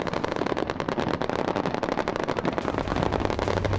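Canned gunfire sound effect played over loudspeakers during a Han Kuang military exercise in Taiwan, with blank-free drills: a dense, continuous crackle of rapid shots and bursts, loud and steady throughout with no voices.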